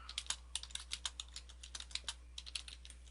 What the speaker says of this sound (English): Type some stuff here.